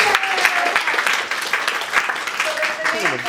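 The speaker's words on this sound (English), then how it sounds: "let's give them a nice round of applause." An audience at an improv comedy show breaks into a round of applause, a dense burst of clapping that carries on throughout while a voice speaks over it.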